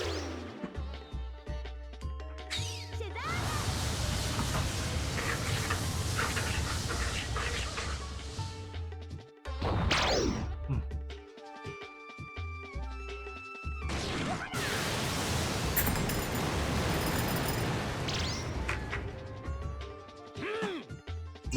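Loud crashing and smashing effects from the Tiger Fist attack combo in Breath of Fire 4, a dense run of heavy hits filling most of the stretch with a short lull midway.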